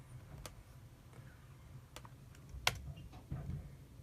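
Commands are typed on a computer keyboard, sparse sharp keystrokes spaced out over a low hum, with one louder click and a short cluster of taps near the end.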